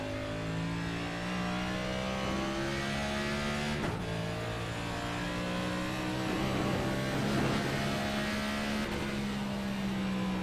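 Next Gen stock car engine lapping the Indianapolis oval in the iRacing simulator, a loud, continuous drone whose pitch climbs and dips steadily across the run, with no voices over it.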